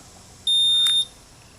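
Pressing and holding the button switches on a GZAIR SA104 travel carbon monoxide detector. It gives a single loud, steady, high-pitched electronic beep lasting about half a second, alone with no talk.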